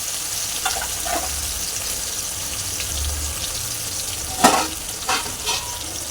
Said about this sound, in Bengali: এটা অল্প আঁচে ভাজতে হবে।